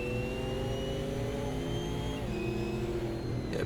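Camaro race car engine in the racing game Automobilista 2, a steady loud drone that revs and shifts pitch midway, held near the rev limiter.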